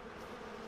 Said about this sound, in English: There's bees. That is a beehive.